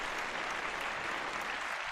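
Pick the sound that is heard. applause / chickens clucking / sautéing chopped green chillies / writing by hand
applause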